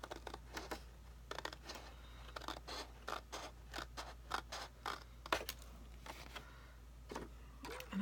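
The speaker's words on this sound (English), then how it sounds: "I can cut down to size just using regular scissors" Scissors snip through paper in a run of quick, crisp cuts, close up, with short pauses between bursts over a low steady hum.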